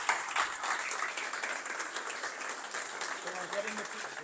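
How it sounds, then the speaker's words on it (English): Audience applause at a tech community meetup marking a ten-year anniversary, steady and moderately loud clapping from a sizable crowd sustained for several seconds, with scattered voices mixed in. "Another round of applause."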